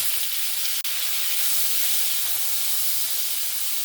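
Loud, steady hissing sizzle of thinly cut potatoes frying in hot oil in a wok, continuous throughout with one brief click near the start.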